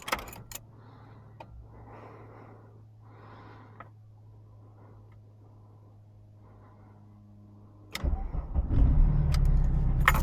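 A VW Corrado G60 with 160 HP sits quiet through soft interior clicks and rustles, then its engine cranks and catches near the end, settling into a loud, steady close-up rumble.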